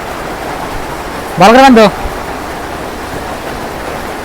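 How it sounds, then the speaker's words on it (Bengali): Heavy rain falls steadily outside a cattle shed as a broad, even hiss. A brief voiced call interrupts it partway through. "আর বাইরে দেখেন বৃষ্টি মনে হয় ছাড়বো না আজকে"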